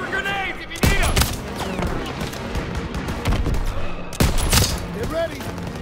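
Battle gunfire in Call of Duty: WWII, with two heavy close bursts and continuous rattling shots between them under the din of combat, along with shouted voices.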